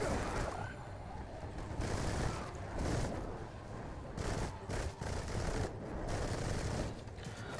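Continuous gunfire from an infinite-ammo, no-reload build in Remnant 2 rattles in rapid bursts of overlapping shots with brief gaps, fairly quiet in the mix, without speech.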